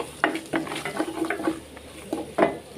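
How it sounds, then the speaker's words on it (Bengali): Mustard paste fries lightly in a pan while a spoon stirs it, giving a series of close, soft scraping and squelching strokes about every quarter second over a faint sizzle, with no talking. "আমি সর্ষে পেস্টটা দিয়ে কিন্তু একটু হালকা ভেজে নিচ্ছি।"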